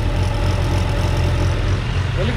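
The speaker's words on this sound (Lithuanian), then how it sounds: "Variklis dabar dirba tolygiai" A Suzuki Bandit GSF600 motorcycle engine idling in a workshop after a full service, making a steady low rumble that runs evenly and continuously, close by and fairly loud.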